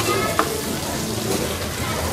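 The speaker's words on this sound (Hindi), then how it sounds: "अभी इसे फ्राई करेंगे।" Chicken drumsticks for tangdi kebab fry in oil over a low flame, giving a soft, steady sizzle like light rain, with people talking over it.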